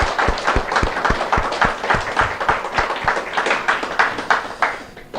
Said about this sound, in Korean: 우리 이렇게 해준 우리 하나님께 영광의 박수 합니다.